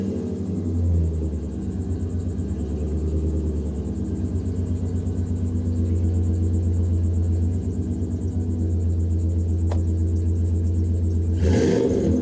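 A van rumbles along steadily on a drive home, its low engine drone continuous and fairly loud, ending in a brief burst of louder noise.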